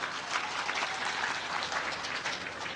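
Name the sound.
audience applauding at a religious discourse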